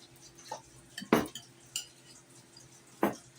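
A small spoon clinks and scrapes against plates while Hawaiian chicken salad is divided between them, making a few bright, close metallic taps with short pauses and no talking.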